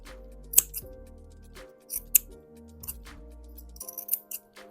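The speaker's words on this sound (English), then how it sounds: "snip through here. I'll cut through this part like this." Scissors snipping through dress fabric during sewing, several sharp, close clicks and snips spaced irregularly over quiet, with a faint steady tonal hum beneath.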